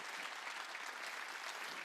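A church congregation applauds during a sermon, a steady dense wash of many hands clapping at once, faint and distant without a break.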